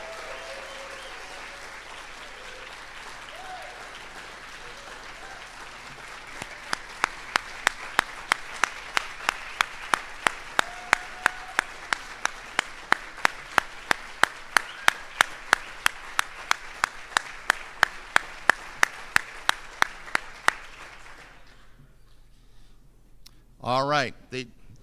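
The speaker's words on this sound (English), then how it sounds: "would you please give a round of applause for his service" A crowd claps at the University of Maine alumni achievement awards, honoring a retiree's service; steady sustained applause swells and holds for about twenty seconds, punctuated by sharp nearby claps, then fades as a voice briefly speaks.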